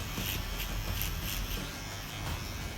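An electric hair clipper shaving the sides of a man's head down to the skin, giving a steady, close, unbroken buzz for the whole stretch.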